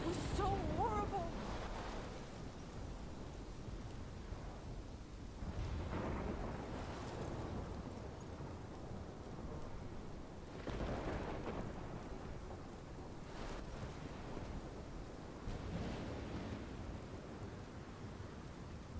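Heavy storm from Life is Strange Episode 5, with continuous rain hiss and several deep thunder rumbles rolling in at intervals, plus brief faint voice-like sounds at the start.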